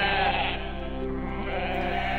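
Goat bleating, one long wavering bleat, close and fairly loud, sounding alone over a low steady hum.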